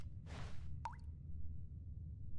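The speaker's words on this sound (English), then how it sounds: "All I hear is drip" A single water drip in The Stanley Parable: Ultra Deluxe video game, a short soft plop followed by a bright rising droplet ping over a low steady background hum, alone with no talking.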